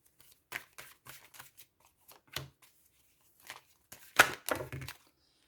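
Tarot cards shuffled by hand in several short riffling bursts, close and fairly quiet, with pauses between handfuls and a louder flurry near the end.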